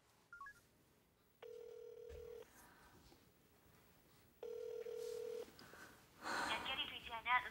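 Two long steady electronic tones, each sounding for about a second with a pause between, a phone line ringing out unanswered after dialing, followed by rustling.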